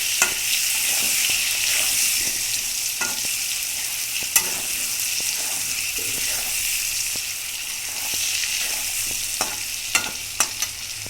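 Pointed gourd (potol) frying in a pan, with a steady bright sizzle throughout and scattered sharp clicks and scrapes from stirring.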